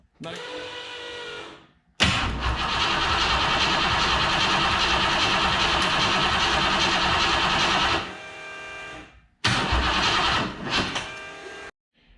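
The engine of a turbo stick-shift Ford Foxbody Mustang cranks on the key in a loud, close, steady churning whir. There are two long cranking attempts with short pauses between them, and no sign of the engine firing.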